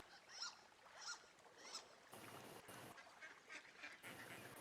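Mallard ducks call faintly from somewhere out of sight in a quiet Wyoming outdoor setting, a few soft quacks spaced across the stretch over a hushed, breezy background.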